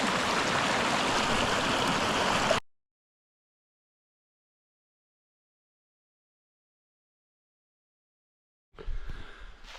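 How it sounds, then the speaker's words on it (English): Steady broadband rushing of water from a flowing woodland brook, close and continuous, cutting off abruptly, then silence before the water sound returns faintly. "we've been following this stream, brook. You can hear it."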